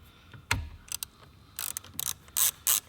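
A ratchet backs out an 8mm bolt on the steering wheel of a 2011-2014 S197 Ford Mustang, making an initial clunk and then several short bursts of close, crisp clicking.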